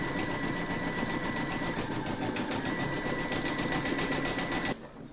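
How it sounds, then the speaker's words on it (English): An embroidery sewing machine satin stitching a free-standing mushroom coaster in the hoop runs at a fast, steady, close mechanical whir, then cuts off abruptly near the end. "And now round number 9, which is the satin stitching."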